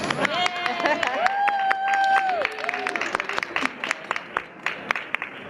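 Audience applause at a fan expo panel in Sun City, 2014, a steady crowd clatter of claps mixed with whoops and raised voices that thins out toward the end.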